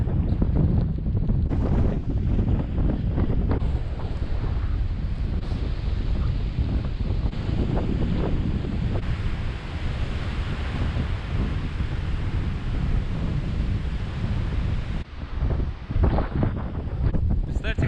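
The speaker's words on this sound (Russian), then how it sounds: "Ветрено тут." Strong wind on a sandy coast among dunes near Sosnovy Bor, roaring steadily and buffeting the microphone, with surf in the background and a voice talking briefly over it.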